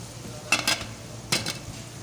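Onions frying in a pan with a faint steady sizzle, broken by two pairs of brief louder scraping stirs, no talking.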